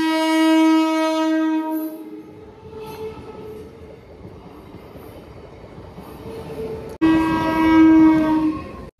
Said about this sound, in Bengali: আর এখন হয়তো দীঘা যাওয়ার ট্রেনটা পাস হবে